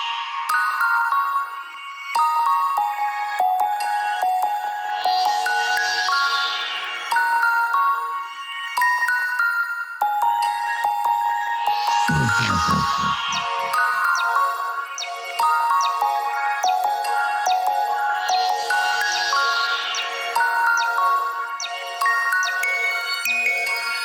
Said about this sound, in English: we hear this bell that's like been playing through the whole part. That is actually, it's an isotope iris patch